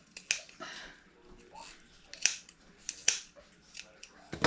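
Scissors snip excess material from a handmade craft gnome, a few sharp close cuts spaced out amid soft rustling and quiet breathy sounds.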